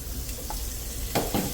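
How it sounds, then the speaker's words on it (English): Butter melts in a hot frying pan after beef has been seared for stroganoff, a steady close sizzle with a couple of louder crackling bursts near the end. "You'll go ahead and add your butter to the pan."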